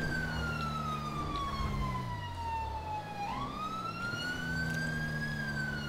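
A police car siren from GTA 5 with LSPDFR wails continuously close by on a road, its pitch sweeping down and then back up in a slow wail cycle over engine rumble.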